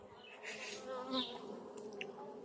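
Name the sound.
honeybee colony buzzing in a hive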